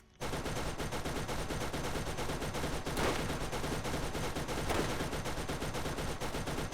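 A sniper rifle fires rapidly and continuously in the Borderlands video game, a dense, loud stream of gunshots with no pauses, with a couple of heavier bursts standing out.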